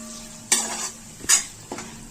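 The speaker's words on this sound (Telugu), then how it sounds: "ఈ జీడిపప్పు పేస్ట్ కూడా పచ్చివాసన పోయేంత వరకు వేయించుకోవాలి" Cashew paste and ginger-garlic paste fry in hot oil in a pan for fish kurma, a soft steady sizzle broken by three sharp scraping strokes of a spoon stirring against the pan.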